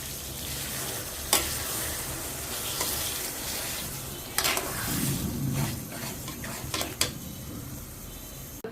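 Garlic fries in a pan for a dish of spicy dried-fish fritters, a continuous close sizzle broken by several sharp scrapes and knocks of a spoon stirring against the metal.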